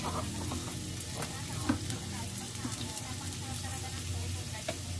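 Garlic and onion fry in hot oil in a pan, a steady close sizzle with small crackles and pops that runs through the whole stretch.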